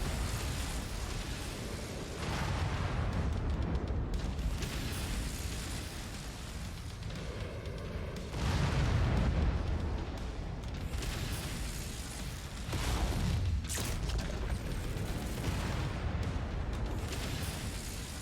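Missiles and bullets pound mechs in MechWarrior 5: Mercenaries: a dense, continuous roar of booming impacts and explosions with repeated heavy surges, and no talk.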